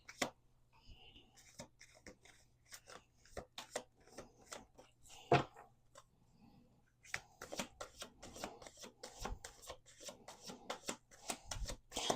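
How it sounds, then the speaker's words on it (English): Crisp riffling and flicking of tarot cards in repeated bursts, close by, with brief pauses between shuffles and faint handling noises. "I'm going to do 2 more shuffles."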